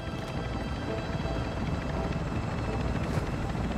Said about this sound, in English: I heard an exfil chopper approaching